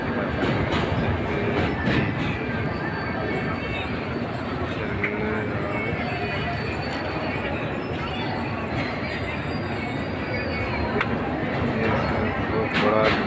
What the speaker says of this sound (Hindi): रेलवे पास हो रहा है